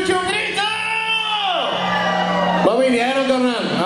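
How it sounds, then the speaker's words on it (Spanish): A crowd of women at a Conjunto Fest concert at a Western club lets out loud, sustained shouts and whoops that rise and fall over about four seconds, filling the space continuously. "que se escuche un grito"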